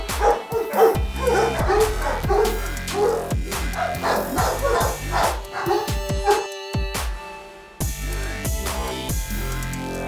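Dogs at a kennel of Boerboels and Rottweilers barking and yipping close by in repeated loud bursts, with some whimpering between the barks.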